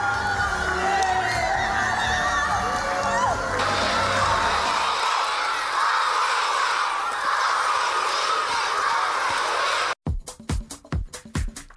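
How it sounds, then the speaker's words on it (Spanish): An audience at a school award ceremony for a Peruvian education prize bursts into loud cheering, whooping and clapping for about ten seconds. After an abrupt cut, a handful of sharp, separate claps follow. "¡Un fuerte aplauso!"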